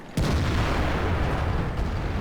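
In World of Tanks, a Jagdtiger's heavy gun fires with one sudden deep blast that rolls on as a thick, sustained rumble, loud and close, with no voices over it.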